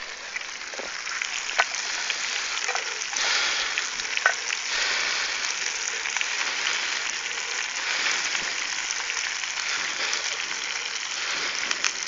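Bacon frying in a pan at an outdoor camp, a steady crackling sizzle with scattered pops that continues evenly throughout.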